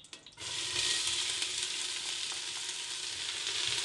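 Chopped onions hit hot olive oil in a preheated pot for spaghetti bolognese, bursting into a loud, steady hiss that holds evenly for several seconds, with no talking.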